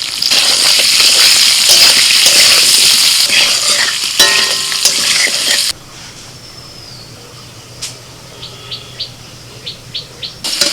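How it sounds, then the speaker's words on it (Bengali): Potatoes frying in hot oil with turmeric and salt for a vegetarian thali, a loud broadband sizzle and stirring for about six seconds, then the hiss drops away, leaving faint crackles and a few bird chirps. "এবার ওই তেলে আলুটা ভেজে নিচ্ছি"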